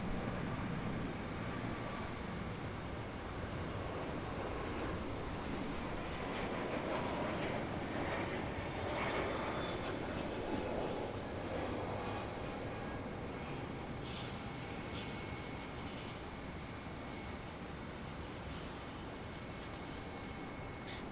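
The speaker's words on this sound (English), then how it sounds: "there goes our A321neo" An Airbus A321neo airliner departs Raleigh-Durham International bound for Salt Lake City, a broad, steady jet roar that holds at a distant, even level for the full stretch with no voices.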